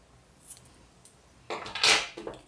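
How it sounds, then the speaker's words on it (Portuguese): Scissors cut crochet yarn: a couple of faint, quiet snips are followed by a louder cluster of crisp cuts close by, with no voice. "Agora eu vou cortar o fio"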